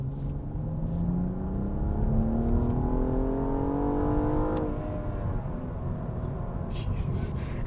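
A BMW M235i/M240i accelerates hard through the gears, its engine intake and exhaust note rising steadily in pitch. It drops briefly at a shift, then climbs again, heard loud and close from inside the cabin.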